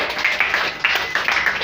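Rhythmic clapping from a church congregation, steady hand claps repeating over and over with no voices on top.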